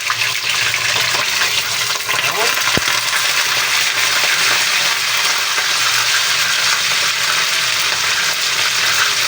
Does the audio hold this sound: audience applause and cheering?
no